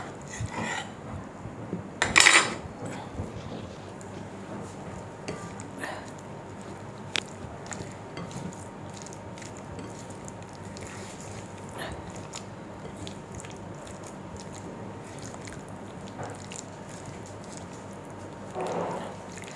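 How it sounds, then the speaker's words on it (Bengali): Minced beef being kneaded by hand for seekh kebab, soft faint squishing and rubbing with a few sharper clinks from a bowl, steady and close. "এবার মাংসটাকে খুব ভালো করে এতে মিশিয়ে নিই"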